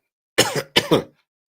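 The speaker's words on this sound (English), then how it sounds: "I'm going to stop coughing in just a second" Two quick, harsh coughs in a row, close and clear, with a raspy throat-clearing quality, followed by silence.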